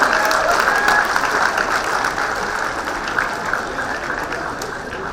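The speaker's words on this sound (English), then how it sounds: "Can we have a big round of applause, please?" A conference audience at a business school fintech event breaks into sustained applause, dense steady clapping from a large crowd that gradually softens over several seconds.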